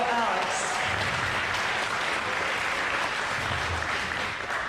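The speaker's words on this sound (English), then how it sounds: "give him a round of applause." Audience applause at a spring school band concert, a dense steady roar of many hands clapping for the full stretch, with some speech mixed in.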